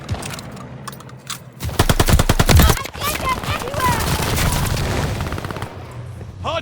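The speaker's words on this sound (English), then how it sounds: "Hard point's under fire!" Rapid automatic gunfire in Call of Duty Vanguard multiplayer, a dense loud burst of shots followed by more scattered firing, explosions and game chatter in the mix.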